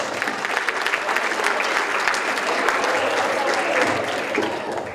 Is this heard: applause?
yes